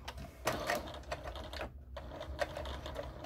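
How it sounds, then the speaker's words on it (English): A sewing machine stitches straight across a fabric cover for a Cricut machine, giving a quiet, fast, even run of mechanical ticking with one short pause. "I'm going to sew straight across again"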